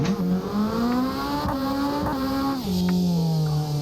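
Car drifting with the handbrake in the Assetto Corsa racing game: a loud, continuous engine drone that rises and falls in pitch as it revs, with brief dips and short bursts of tire noise, and no voices.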